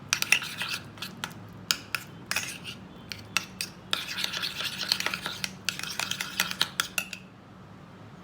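A spoon stirs a ketchup and mustard powder sauce in a bowl, making close, irregular scraping and clinking sounds as the utensil rubs against the bowl, with no talking.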